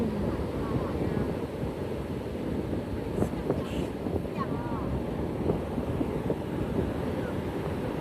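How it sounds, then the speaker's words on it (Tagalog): Strong waves break and wash along the shore of Laomei Green Reef in springtime, a steady broadband roar of surf with wind buffeting the microphone and faint voices of people nearby. "Lakas ng alon."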